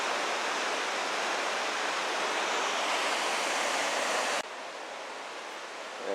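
Water crashing through the rocky gorge of Johnston Canyon in Banff National Park, a loud, steady roar of rushing water that drops slightly in level near the end.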